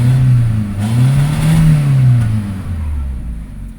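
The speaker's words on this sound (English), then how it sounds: "So you can see I can accelerate." A 1998 Mitsubishi Pajero iO engine, one with a history of burning out ignition coils, revs up loudly and close by, its low drone climbing in pitch, holding, then easing back down in a single smooth rise and fall with no talking.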